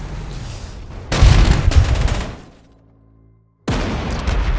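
Gunfire and blasts from an attack on an artillery gun in the WWII strategy game Panzer Corps 2, a loud dense burst of shots and booms lasting about a second, fading to a low rumble, then another loud volley.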